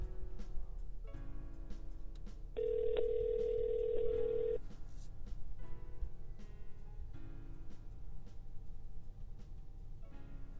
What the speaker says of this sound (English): Let's get that phone call.